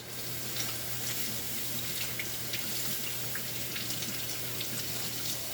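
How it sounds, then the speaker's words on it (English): Hands are washed under a steady stream of running tap water, a close, continuous broadband hiss with small splashes and no voices. "Now I'm going to wash my hands"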